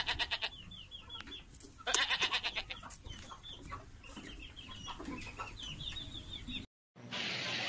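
Goats bleat at a livestock market with chickens clucking and crowing among them, overlapping calls in a busy, noisy pen that cuts briefly near the end.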